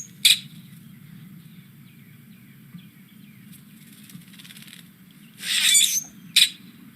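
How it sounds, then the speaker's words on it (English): A common grackle gives a harsh, squeaky call like a rusty gate: a sharp squeak at the start, a longer grating burst near the end and a final short squeak, all over a steady low hum. "this is the common grackle"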